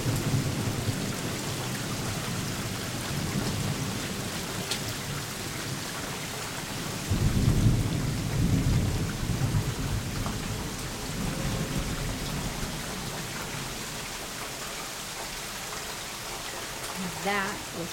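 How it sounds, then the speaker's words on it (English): Heavy rain pours steadily through a thunderstorm while a deep rolling thunder rumble swells in the middle and slowly fades back into the hiss of rain. "We were having some really awesome thunder, rolling thunder"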